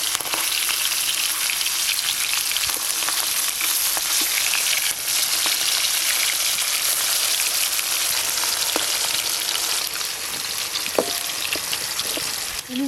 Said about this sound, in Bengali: ইলিশ মাছ গরম তেলে দেওয়ার পর এপিট ওপিট উল্টে দিলেই হয়ে যাবে।